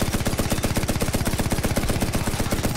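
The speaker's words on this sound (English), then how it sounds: "I killed a vehicle with a machine gun" A machine gun hammers at a vehicle in a video game, a rapid, steady stream of evenly spaced loud shots running without pause, close and dominant, with no voices.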